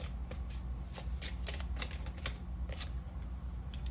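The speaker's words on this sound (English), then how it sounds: "Let's get out a couple of energy cards." A deck of energy cards is shuffled, a soft rapid riffling patter in quick bursts, close and quiet with no talk.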